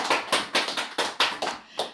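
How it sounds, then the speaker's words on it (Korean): An audience at a temple dharma talk claps in a short round of applause, about eight crisp, evenly spaced claps close to the listener. "박수 좀 크게 쳐."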